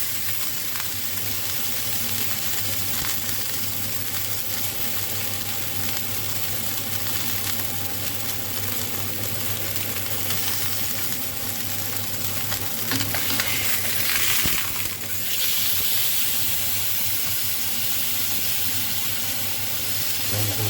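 Tuna searing in a pan for a niçoise salad, a continuous hiss and sizzle with a low steady hum underneath and a brief clatter near the end, no voices.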